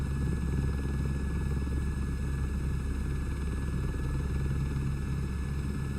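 A helicopter in Microsoft Flight Simulator 2024 career mode gives a steady, dense rotor and engine drone with a constant low thrum, unbroken and even throughout, with no talk.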